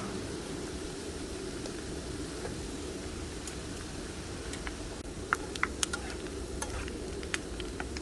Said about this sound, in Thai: ก็ในการทอดตะไคร้ก็สังเกตประมาณนี้ค่ะ